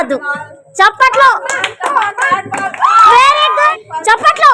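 Clapping from a group at a New Year's Eve party ball game, bursts of hand claps mixed with loud children's shouting and excited voices throughout.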